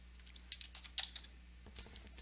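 Quiet clicks of typing on a computer keyboard, a short burst of several keystrokes in an irregular rhythm over a low steady hum, close and faint with no talking.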